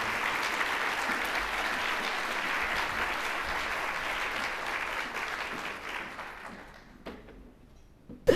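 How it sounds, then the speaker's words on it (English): Steady applause from an audience welcoming speakers to the stage at a civic forum, a dense wash of clapping that holds for about six seconds before thinning out and fading near the end. "give them a warm applause and welcome them to the stage"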